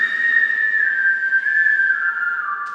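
A whistle sample in a music track plays a sustained, piercing tone with harsh resonances left untamed, sliding slightly lower near the end, loud and alone with no voices.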